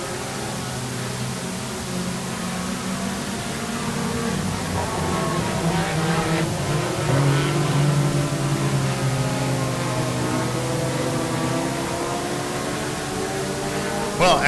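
IMCA Sport Compact race cars circle the track at Quincy Raceways as a steady, distant wash of engine roar, continuous and fairly even throughout.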